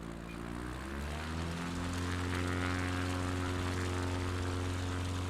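Propeller airplane on a bush-flying trip in Finland, throttling back to slow down for landing, a steady buzzing drone whose pitch drops early on and then holds, heard close from the cockpit.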